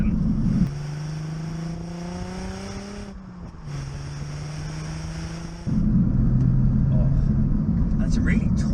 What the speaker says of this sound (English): Well, that engine is really strong. You can probably hear it. It sounds really tuneful.